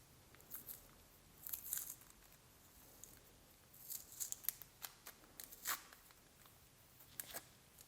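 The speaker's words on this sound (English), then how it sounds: "So now I just need to remove the strong grip transfer tape from the back." Strong grip transfer tape being peeled off the back of a cut leather tag piece, giving quiet, intermittent crackling tears and sticky rips close by, with no talking.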